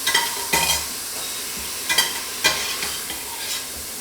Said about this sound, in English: I'm going to scoop it out with the slotted spoon